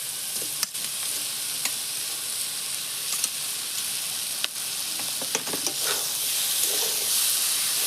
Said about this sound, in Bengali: এখন আমি এতে দিয়ে দেবো ভেজে রাখা মাছ